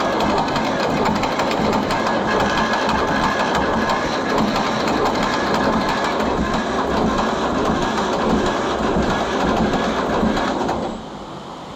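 A 1948 John Deere B tractor engine cranks over steadily without firing, a continuous dense mechanical churning that stays loud and even for about eleven seconds before dropping off slightly at the end.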